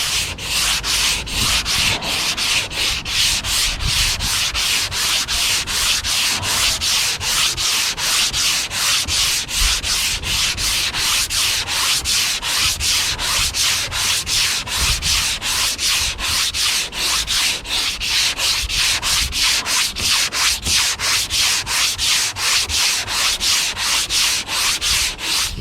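A hand sanding block works the body panel of a Cobra Daytona car in steady, rhythmic back-and-forth strokes, a close, raspy scrape repeating roughly twice per second with no talking.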